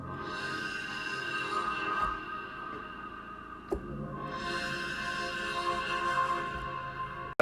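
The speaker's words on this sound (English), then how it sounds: "Now with adding a reverb and a chorus, we can play some really lush chords that sound like this." Lush ambient synth pad chords built from a cymbal sample and run through reverb and chorus, sustained and shimmering with one brief transient midway, playing alone without talk.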